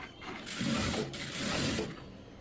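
A sewing machine with a double foot stitches piping on a long frock, giving a quiet, close mechanical whirring and clicking in two short bursts with a brief pause between.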